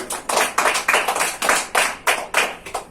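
A church congregation claps hands together in praise, a steady, even rhythm of roughly four sharp claps per second, loud and close, with no voices over it.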